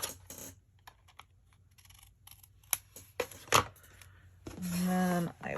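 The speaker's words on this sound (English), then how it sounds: "And I'll trim off the edge." Scissors snip the edge of a foil craft tag in a few crisp, close cuts spaced across a quiet tabletop, followed by a short rustle of paper.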